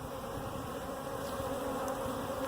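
Russian honey bees from a feral colony crowding a winter feeder, a dense, steady buzzing hum from many insects close by, continuous and without talk.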